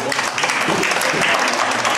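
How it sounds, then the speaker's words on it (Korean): A church congregation breaks into warm applause, a steady dense clapping from many hands filling the room for a couple of seconds. "우리 축하 박수 한번 치겠습니다"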